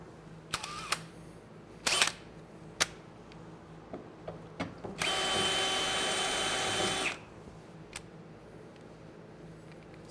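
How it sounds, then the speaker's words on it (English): A power drill with a new bit drills overhead into the body of a 1970 Dodge Dart. There is one loud, steady whir of about two seconds, surrounded by scattered clicks and clanks of handling. "drilling overhead"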